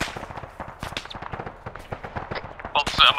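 Incoming gunfire in the military video game Arma 3 cracks in rapid, irregular shots, fairly close and loud, with muffled voices talking under the volley.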